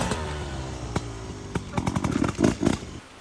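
A trail motorcycle engine, close by, rises from a buzzing idle into a series of quick throttle blips and short revs before cutting back to quiet.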